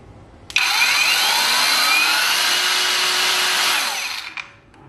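A Sentinel STL-CL-1801 angle grinder is switched on and runs for about four seconds with a loud, high, steady whine, then spins down and stops, heard close up without talk.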